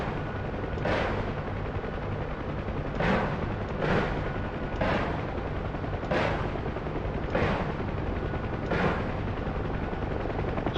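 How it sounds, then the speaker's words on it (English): Enemy gunfire heard from a UH-1H Huey helicopter in DCS World, six or seven sharp bursts spaced about a second apart over the steady drone of the rotor and engine. "Oh boy, and they are shooting."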